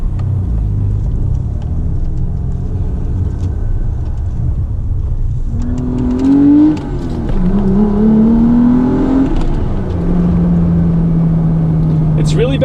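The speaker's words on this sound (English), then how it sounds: "So I'm in third gear, I put my foot down, nothing, and then all of a sudden." A car accelerating in third gear with the foot down, engine hesitating then surging and jerking around 2000-3000 RPM, a droning rumble whose pitch rises, wavers and falls unevenly, with a voice talking over it.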